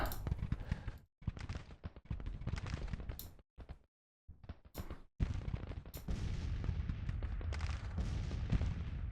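Musket volleys and artillery fire in the Grand Tactician Civil War video game, dense crackling gunfire in rapid bursts with booming shots, separated by brief silent gaps, then a sustained roar of battle.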